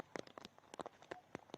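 Rain falling on a polo field, faint irregular drops and light patters heard close up over a quiet background.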